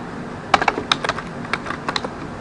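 Typing on a computer keyboard: a quick run of about a dozen light, close clicks in an irregular rhythm, with no voice.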